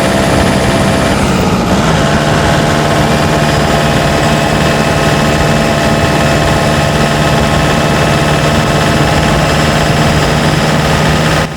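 A Nissan Urvan van climbing a steep mountain road, its engine droning loud and steady with a constant low hum and vibration, close and continuous throughout.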